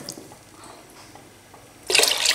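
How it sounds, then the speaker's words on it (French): Water pours into a seafood chorba pot after the browning step, a sudden loud splashing gush near the end following quiet kitchen sounds. "Alors après la coloration, je vais rajouter de l'eau."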